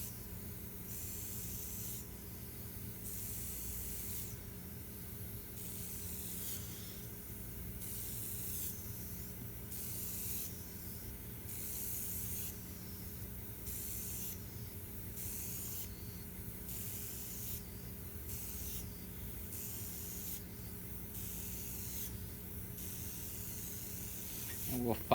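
An airbrush spraying paint for a galaxy-style painting gives a steady close hiss in repeated pulses of spray with short gaps, faint and without talking.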